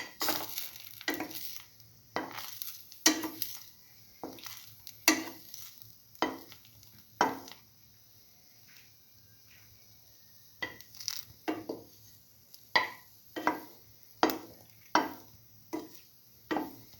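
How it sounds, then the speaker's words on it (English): Bread slices for chili ginger garlic French toast fry in a pan with a soft, quiet sizzle, broken by repeated scraping and clinking as the pieces are moved around. "dip in the next bread piece and let it fry"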